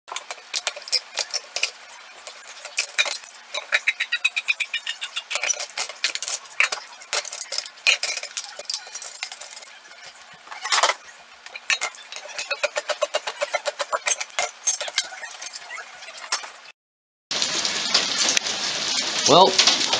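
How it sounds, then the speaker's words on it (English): Rain mixed with hail falls in a stormy spurt, dense rapid pattering and ticking pellets striking a surface close by, continuing with brief gaps before a different, hissier stretch at the end. "Well, now there's hail, so I guess this spurt of rain has a little bit of ice with it."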